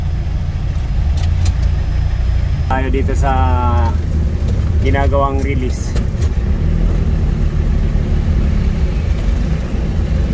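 Road traffic with car engines rumbling steadily on a congested road in Bulacan, a low continuous drone with passing vehicles throughout, while a person talks over it in the middle section.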